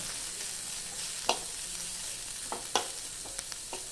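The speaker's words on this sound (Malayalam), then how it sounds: "നന്നായി ഇങ്ങനെ ഇളക്കി ഇളക്കി ഇളക്കി മൂത്ത് വരട്ടെ" A soft, steady sizzle of bitter gourd frying in a pan, punctuated by a few sharp scrapes and taps of a spoon stirring.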